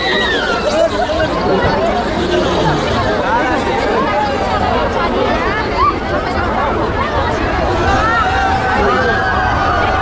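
Dense crowd at a busy mela fair, a loud constant babble of many voices chattering close by, with shouts and calls rising out of the hubbub.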